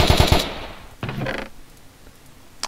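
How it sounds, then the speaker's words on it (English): Rapid bursts of AK assault rifle gunfire in a Minecraft Walking Dead zombie datapack, a loud fast volley followed by a shorter second burst, with no talking. "It does shoot out bullets like it's seen."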